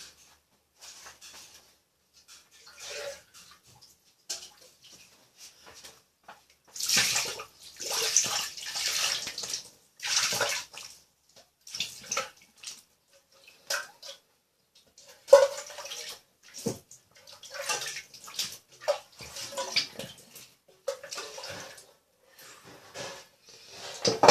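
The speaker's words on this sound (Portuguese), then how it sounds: "Lava minhas mãos." Tap water runs in bursts while hands are washed with soap at a sink, splashing and trickling up close with pauses between rinses, no talking heard.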